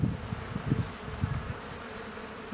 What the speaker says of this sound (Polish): Plastry są obsiadane na czarno z pszczoły